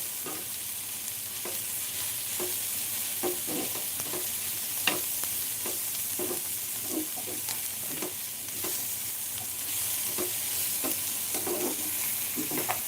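Onion and tomato frying in a pan for a mutter paneer masala, a steady soft sizzle punctuated by regular scraping strokes of a stirring spoon, close and without talk.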